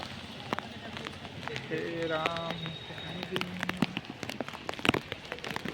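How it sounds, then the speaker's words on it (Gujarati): Heavy rain pours over a street in Jamnagar, a dense patter with sharp drop hits and splashes throughout, while people talk nearby and a brief tonal horn-like sound passes midway. "ગાય ફૂલ વરસાદ ચાલુ થઈ ગયો છે"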